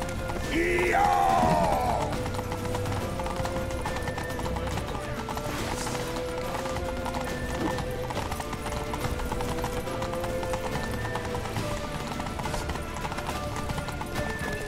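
Horse hooves clip-clopping in a fast rhythm as a rider gallops in The Witcher 3, continuous under game sounds, with a brief horse whinny near the start.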